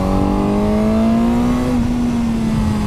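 Suzuki GSX-S1000 motorcycle engine pulling hard in second gear, a loud, close, steady rising drone with strong harmonics and buffeting wind noise throughout, no talk over it.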